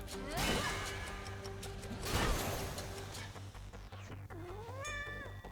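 A cat meows in the video game Hades 2, two drawn-out calls near the end, over a steady game soundtrack and clattering effects.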